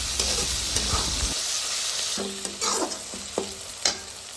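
Rohu fish and onion being sautéed in oil in a home kitchen, a hissing sizzle under occasional scraping strokes of a spatula against the pan, close and fairly loud, with no talking.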